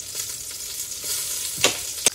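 Ghee stirred into hot shukto gives a steady, soft sizzle throughout, broken near the end by two sharp clicks of a spoon against the pan. No one speaks.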